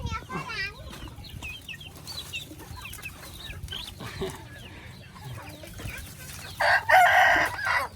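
A rooster crows loudly near the end while chickens cluck intermittently throughout at a small vegetable garden in Thailand, with people talking in the background.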